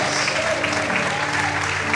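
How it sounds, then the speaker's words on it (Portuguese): Throughout the two seconds, a Portuguese-speaking church congregation claps in an even, unbroken wash of applause, with a faint sustained musical tone running underneath. "Você pode aplaudir o Senhor?"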